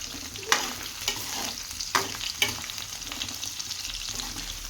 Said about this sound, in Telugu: ఇప్పుడు మంచిగా ఇవి కొంచెం బ్రౌన్ కలర్ వచ్చేంత వరకు అయితే ఫ్రై చేసుకోవాలి.